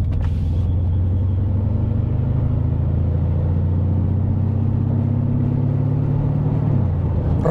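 Mercedes ML63 AMG SUV engine rumbling loud and close, a deep steady idle-like drone with rising pitch held, then dropping off near the end, no talking.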